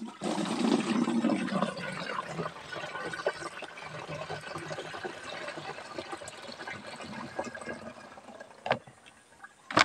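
Red liquid pesticide for onion seedlings is poured into a drum, giving a steady, close splashing and gurgling pour that tapers off into faint drips near the end.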